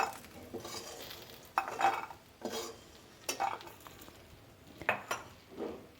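Fried lentil dumplings scooped from a pan into a bowl, with a spoon scraping and clinking against metal in several separate bursts over a faint background sizzle. The sounds are soft and close, with no voices.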